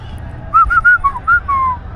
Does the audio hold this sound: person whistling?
yes